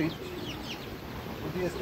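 Chickens cluck in a poultry cage, a steady murmur of soft clucks and calls that stays close and even for the whole stretch, with no voice over it.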